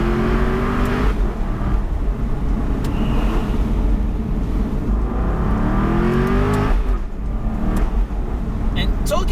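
An Aston Martin V8 Vantage engine revs loudly and close up toward the red line, the pitch climbing, dropping briefly at a quick gear change, then pulling hard again.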